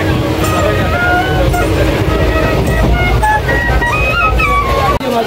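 A passenger train runs on the line from Kolkata to Santiniketan, heard from inside as a steady, loud rumble of wheels and carriage noise throughout, with faint voices and clatter mixed in.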